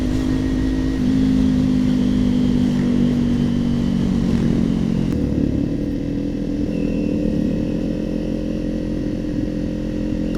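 Motorcycle engines drone loudly and continuously along a road, one rider close by with the engine note rising and falling as other bikes pass, a steady mechanical roar with no voices.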